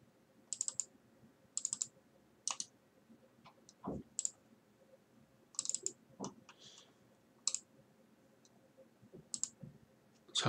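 Mouse clicks on a computer during map-search work, arriving as sharp paired and single clicks spread across the stretch, close and fairly quiet, with faint low thumps between them and no speech.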